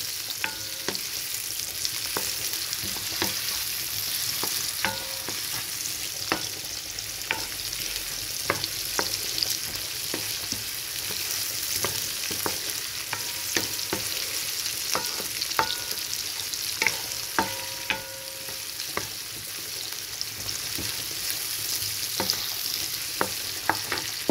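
Potatoes frying in a pan with onions, stirred repeatedly, giving a steady close sizzle broken by frequent scraping and clinking strokes throughout, with no talking.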